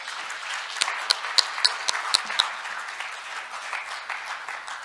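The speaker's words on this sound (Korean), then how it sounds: "다시 한번 큰 박수 부탁드리겠습니다" Audience applause closing a session at an international patent court conference on artificial intelligence, a steady wash of clapping with a few sharper individual claps standing out, fairly soft and even throughout.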